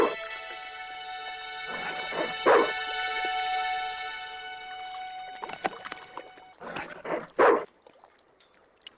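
Dog in the remastered Broken Sword: The Smoking Mirror video game barking several times in short bursts, once early and again near the end, heard over a steady tonal game backdrop with watery sounds.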